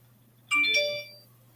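A phone notification chime sounds once, a short bright multi-tone ding that rings out and fades over a faint steady electrical hum, with no talking.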